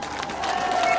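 Mourners at a funeral ceremony for boat-sinking victims in Minova applaud their governor, a dense wash of crowd clapping that swells slightly over a brief stretch, with voices mixed in.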